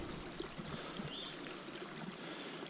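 A small stream bubbles and trickles down a hillside through cedar woods, a faint continuous gurgle with soft splashes and no talking.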